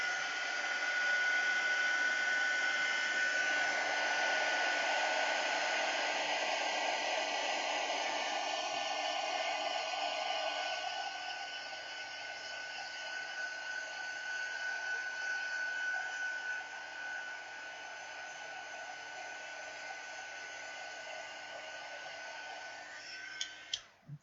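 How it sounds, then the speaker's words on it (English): A heat gun used for heat embossing blows a steady, loud hiss of hot air that shifts slightly in tone partway through, running continuously for over twenty seconds before clicking off. "Heat gun, here it is."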